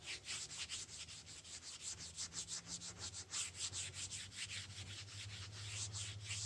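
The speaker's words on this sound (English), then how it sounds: "then I'll wipe off the excess, and it will all smear together" A cloth wipes wet stain off white-painted wood in quick, steady back-and-forth strokes, a close, soft rubbing rhythm with no talking.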